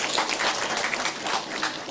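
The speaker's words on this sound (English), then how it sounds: "So give Shala a round of applause." A crowd at an outdoor lifeguard graduation ceremony at Maracas applauds a woman, a brief, moderately faint wash of clapping hands that holds steady for a moment.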